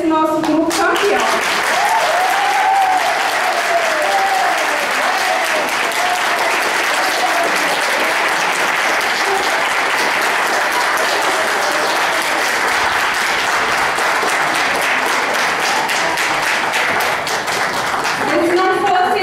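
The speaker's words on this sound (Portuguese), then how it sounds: "eu quero pedir agora muitos aplausos para esse nosso grupo campeão" A crowd claps loudly and steadily for a champion group, a dense, sustained wall of applause lasting nearly twenty seconds.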